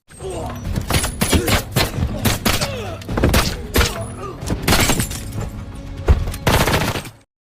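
A chaotic burst of gunfire rattles on and off for several seconds, sharp cracks and thuds overlapping with shouting, then cuts to silence.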